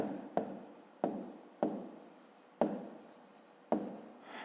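Pen strokes scratch across paper at close range as a maths answer is written out by hand, in five or so quick bursts, each opening with a sharp tap and trailing into a soft scrape.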